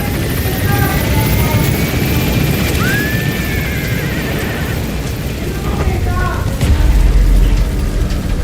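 Helicopter lifting off in the video game Metal Gear Solid 5, a loud steady rotor and engine roar filling the whole stretch, with a rising whine partway through and mechanical clanks, under faint radio voices.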